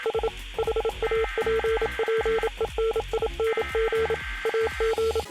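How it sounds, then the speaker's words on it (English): Repeated electronic beeps sound from televisions in Fortnite, arranged in short and long Morse code groups with brief gaps between them. The tones are clear and steady over a continuous low hum. "If you guys go up to any of the TVs on the island that teases this live event, you'll hear some Morse code."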